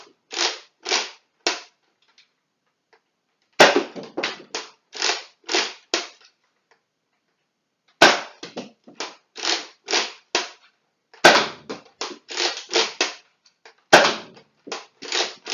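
A Nerf Rival Jupiter blaster fires foam rounds in quick runs of sharp pops, each string of about ten shots separated by pauses, loud and close with no talking.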